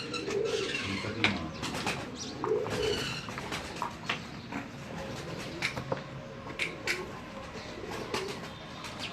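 A Salara Teddy pigeon coos in soft repeated rolling phrases, fairly close, with a few faint chirps from other birds and light background noise in between.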